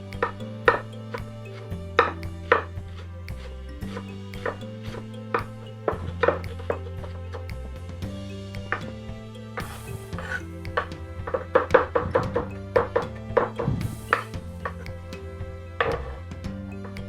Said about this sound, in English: In chopping up parsley, if you're going for a fine chop, ball it up as tight as you can